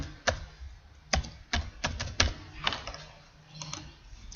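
Keys tapped on a computer keyboard as a library card number is entered, about a dozen sharp, close clicks in an uneven rhythm over a quiet background.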